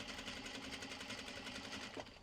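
Sewing machine back stitching over webbing on a fabric belt bag, a faint, steady rapid mechanical whir with a regular stitching pulse throughout.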